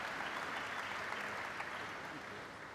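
A crowd inside a tent at a corporate electric-vehicle battery factory announcement applauds steadily, a faint, even wash of clapping heard from a distance.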